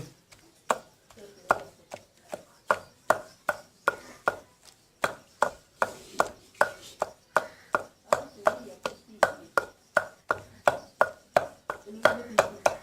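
A pestle pounds roasted, peeled eggplant in a kundi mortar for baingan bharta: about thirty close, evenly spaced thuds in a steady rhythm, with no talking.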